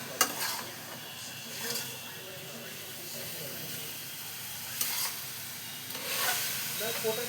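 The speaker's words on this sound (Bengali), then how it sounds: "ম্যাগি মশলা দিয়ে এটাকে ভালো করে নাড়িয়ে মেখে নেব" Chicken is stirred and mixed with Maggi masala in a pan, a soft, continuous sizzle with a few brief scraping strokes spaced apart, faint and close.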